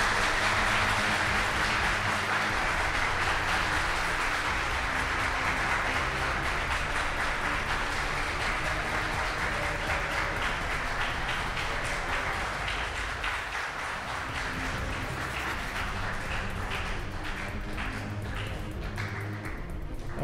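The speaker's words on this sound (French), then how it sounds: "Sous vos applaudissements." Studio audience applauding on a French-language TV quiz show as a school team captain is introduced, a steady dense wash of clapping holding at an even level for the whole stretch, with no talk over it.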